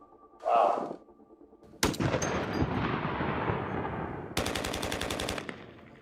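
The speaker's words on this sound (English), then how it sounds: "we went and captured tails of guns in different environments through our weapon shoots" Gunfire sound effects from the Overwatch 2 video game: a brief burst, then a loud blast with a long rumbling environmental tail, followed by a rapid, evenly spaced automatic volley that fades out.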